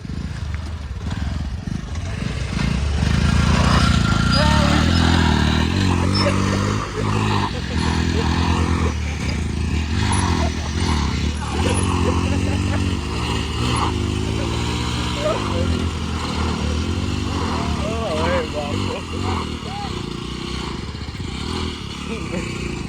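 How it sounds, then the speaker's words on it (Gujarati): A Splendor motorcycle and an Activa scooter race each other, their engines droning and revving with rising and falling pitch at close range, while people talk and shout over the noise throughout. "આપણે એક સ્પ્લેન્ડર અને આપણે સમીરભાઈ એક છે એક્ટિવા."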